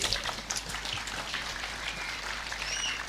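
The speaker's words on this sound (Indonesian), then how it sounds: "silakan kasih aplaus untuk Buya Rosi" Audience applause for Buya Rosi at an Islamic study session (halaqoh ilmiyah), a steady wash of clapping from the crowd lasting about three seconds with no talking over it.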